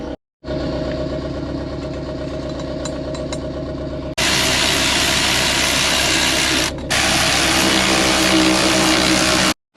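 A compound-turbo Subaru Forester engine idles with a steady mechanical drone, then a sudden louder, broadband rush takes over, continuous and close, with no talking.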